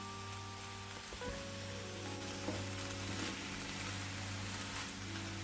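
Fish and vegetables frying together in a pan, a continuous crackling sizzle with a low steady hum underneath and a couple of faint clinks, moderately quiet and without voices.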